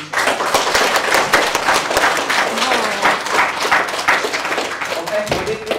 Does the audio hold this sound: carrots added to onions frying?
no